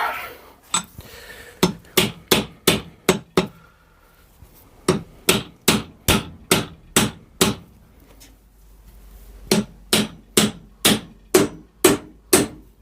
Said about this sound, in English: so we'll give this a gentle tap down